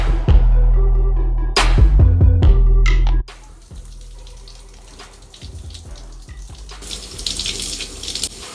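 Tap water running while short hair is washed, loud close splashing and knocks at first, then a steadier, quieter stream with spattering toward the end.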